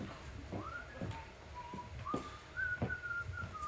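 A person whistles a short, wavering tune in bursts during a stage performance of The 39 Steps, with soft rustling and a few knocks in the background.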